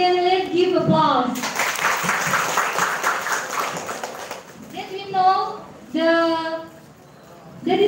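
A panel discussion audience applauds in a short, dense burst between stretches of a host talking nearby, the clapping fading as speech resumes.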